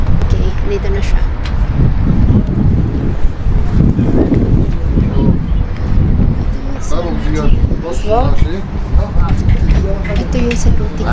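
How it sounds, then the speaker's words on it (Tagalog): Gusty wind buffets the microphone outdoors in uneven rushes, with a person talking and faint traffic in the background. "Mahangin guys."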